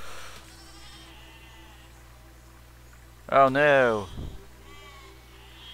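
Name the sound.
sheep bleating in the video game Besiege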